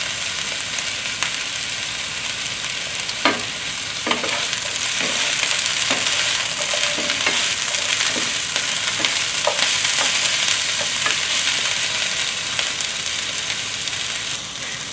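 Kale with ginger and garlic stir-frying in a pan, a steady bright sizzle throughout with repeated clacks and scrapes of a utensil stirring, close and fairly loud with no talking.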